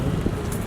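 Geese being fed by people at the waterside in Hamburg honk amid a broadband outdoor wash, short nasal calls low in the mix within city ambience.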